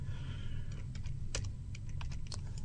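Quick, irregular keystrokes tapped out on a computer keyboard, close and fairly soft, with a steady low hum underneath and no talking.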